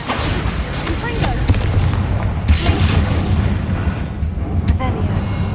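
Bombarda blasting spell going off in Hogwarts Legacy: heavy, booming explosive bursts with rumbling debris, loud and close, a few distinct blasts over several seconds with voices mixed in.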